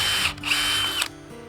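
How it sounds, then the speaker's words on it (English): A power drill bores a bit through a wooden baseboard on a high tunnel frame, a steady loud whirring grind that runs for about a second before cutting off. "I can line the drill bit up with that mark that we put on there."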